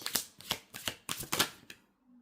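Tarot cards riffled and shuffled by hand in quick bursts of crisp flapping, several rapid rounds close up, ending in a short pause.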